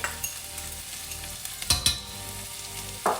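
Parsley stalks, seedless red chilli, garlic and prawns fry in a pan with a continuous close sizzle, broken by a few sharp utensil clinks and stirring scrapes near the end.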